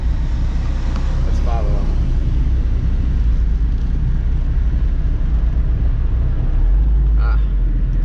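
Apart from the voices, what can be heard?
Alfa Romeo Giulia car engine driving ahead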